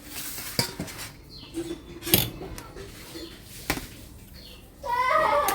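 Plates and utensils clink and clatter while food is served, sharp separate knocks spaced out over quiet, ending with a burst of busier noise and a voice.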